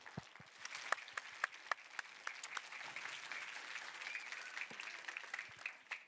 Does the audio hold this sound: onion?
no